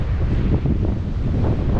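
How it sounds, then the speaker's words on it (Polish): Atlantic Ocean waves on a wide winter beach on the Outer Banks of North Carolina, a continuous wash of surf heavily mixed with loud wind buffeting the microphone. "Zobaczcie sobie, tu za mną jest ocean."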